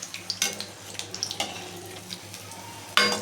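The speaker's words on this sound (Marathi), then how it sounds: "अशा तळते." Stuffed green chillies fry in hot oil, giving a soft continuous sizzle with scattered utensil clinks and a sharper pan clatter near the end, close up and with no talking.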